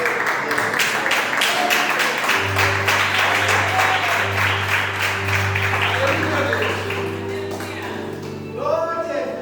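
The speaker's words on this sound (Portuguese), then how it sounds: "vai bater palmas para a palavra de Deus" Congregation clapping hands together during a church service, a dense sustained round of applause lasting most of the stretch with a low organ or keyboard tone and voices running underneath.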